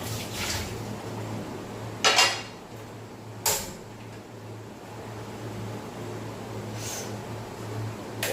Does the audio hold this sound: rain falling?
no